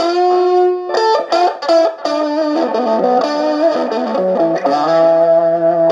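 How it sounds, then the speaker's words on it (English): An electric guitar plays a melodic lead through a 68 plexi amp preset with a distortion pedal and delay, producing sustained, singing notes and quick runs with a smooth, saturated tone, loud and alone. "let me play a little lead here. This is a 68 plexi with a distortion pedal and a delay."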